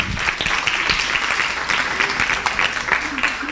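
Close, lively applause from an audience at a Kuchipudi dance performance, continuous dense clapping with a few sharper individual claps, a voice briefly audible beneath.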